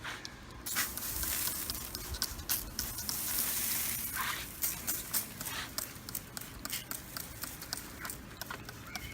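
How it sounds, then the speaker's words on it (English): Sharp hissing bursts of liquid spray come in short, repeated pulses over a steady low sizzle, close by, as a pork butt is sprayed down in a smoker. "Let's give her a spray down."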